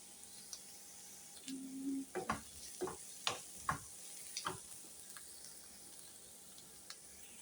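Onions sauté in a pan with a soft, steady sizzle under a handful of sharper clinks and scrapes from stirring, fairly quiet and close, with no talk.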